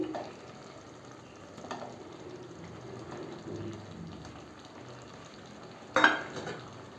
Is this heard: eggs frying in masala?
yes